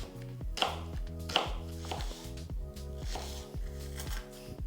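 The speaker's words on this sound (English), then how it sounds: "I'm just gonna chop it up" A knife chops an onion on a kitchen counter in about seven crisp, evenly spaced strokes, close and clear over soft tonal background music.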